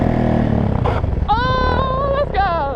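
Carbon fiber Suzuki DRZ dirt bike riding, with a rough engine drone through the first second, then loud whooping and shouting voices over the running motor.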